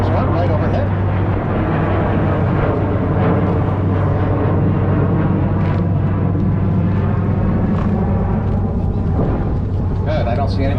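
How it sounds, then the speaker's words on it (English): A jet aircraft passes overhead above Boston harbor during a sightseeing cruise, its broad rumble blending with the steady hum of the boat's engine and a murmur of voices. "There goes a jet. There's one right overhead."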